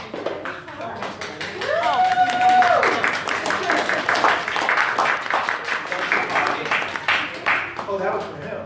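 Audience at a City Tech panel event clapping a little late, with scattered claps building into applause mixed with voices and a brief whistle or cheer over the room noise.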